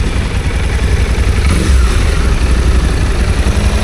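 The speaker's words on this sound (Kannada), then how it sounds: "Twin cylinder engine. ಇದು ಇನ್ಲೈನ್ 2 ಅಂತ ಅನ್ಕೋರಿ." A Suzuki V-Strom 800 motorcycle with an inline twin-cylinder engine runs close up, a loud, steady low throb with a slight swell in the middle and no gaps.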